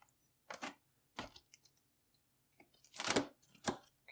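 Cardboard packaging for an air purifier is cut open, giving several short, quiet scraping and tearing bursts separated by pauses, close by and with no talk.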